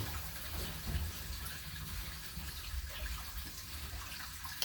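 Water runs steadily into a tank in a brewery, a constant close rushing and splashing wash that holds an even level throughout with no pauses.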